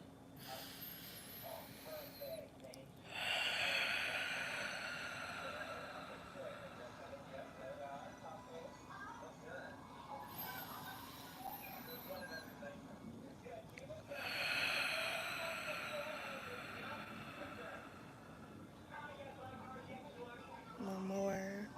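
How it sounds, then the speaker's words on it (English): Several slow, deep breaths in and out, each a long airy rush with quiet pauses between, close and fairly loud over a low steady hum. "feel free to pause and take a deep breath"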